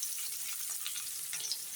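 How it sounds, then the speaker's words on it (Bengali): Chopped onions fry in a wok of oil left over from frying fish, making a steady, soft, close hiss of sizzling with no voices. "এই তেলের উপরই পেঁয়াজটাও ভাজি করে নামিয়ে রাখবো"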